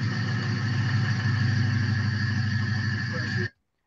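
A truck or car engine running at a steady idle, a close, even low throb with a mid-range hum, which cuts off abruptly near the end into silence.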